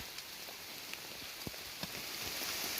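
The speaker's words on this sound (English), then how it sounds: "it started raining quite a bit" Rain falls steadily on the Appalachian Trail in Virginia, a soft constant patter with scattered sharper drops striking nearby surfaces, fairly faint and with no one talking.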